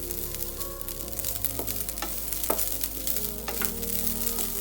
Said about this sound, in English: I've kept a pan and it's hot now, and I'm adding this coconut. We have to dry roast this.